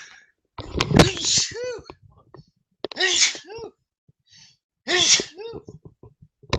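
Three sharp sneezes come in close succession, each a loud burst followed by a breathy trailing gasp, with quiet pauses between them.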